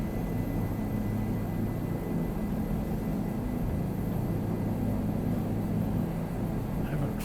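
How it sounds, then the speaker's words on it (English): A helicopter flying overhead drones as a steady, loud low rumble with a constant engine hum, unbroken throughout. "Haven't flown this chopper much,"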